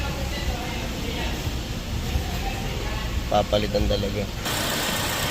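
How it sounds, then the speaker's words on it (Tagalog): Engine of a 2022 Toyota Avanza with a bad idle, running with a steady low rumble, the RPM unsteady and rising and falling, nearby as someone speaks over it. "Na-reset natin pero talagang magalaw pa rin yung RPM."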